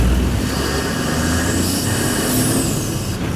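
Turbo whoosh and intake noise from a GR Corolla fitted with an MST V2 intake, a steady loud broadband rush with hiss rising toward the top, continuous under engine drone while driving, no voices.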